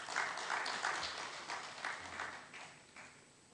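At a public presentation of an annual report, an audience gives a speaker a short round of applause, moderately quiet scattered clapping that comes in waves and fades toward the end.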